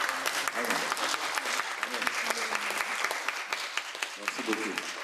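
Dense audience applause at a round-table discussion on women's writing in Africa and the Caribbean, a steady crackle of many hands clapping with murmured voices underneath.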